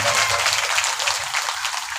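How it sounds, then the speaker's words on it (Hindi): Loud, dense applause from devotees welcoming the speaker at a nine-day Shrimad Devi Bhagavat recitation, continuous crisp clapping filling the moment without pause. "एक बार जोरदार तालियों के साथ व्यास जी का स्वागत"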